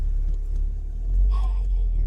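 A car's engine rumbles low and steady from inside the cabin on a road trip, with a brief faint whine partway through and no talking.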